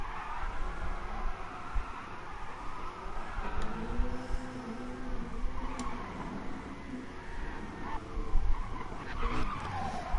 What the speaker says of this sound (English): good drift, the good drift of this car